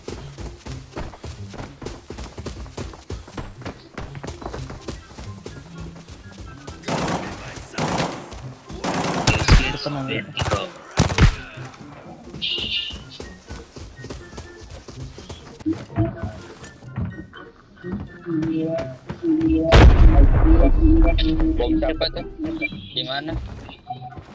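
Bomb blasts and bursts of gunfire from the Arena Breakout video game rattle through in scattered volleys, with one heavy boom late on, while players talk over the action.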